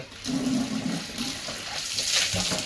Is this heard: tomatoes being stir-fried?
no